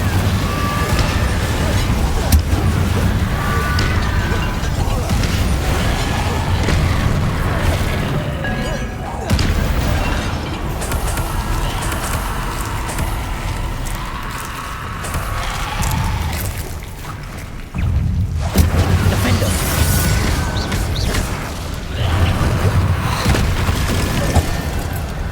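Incendio and Confringo spells blasting in Hogwarts Legacy, fiery explosive booms and crashes following one another almost without pause, loud and dense with brief dips, while a voice calls out spell names over the combat.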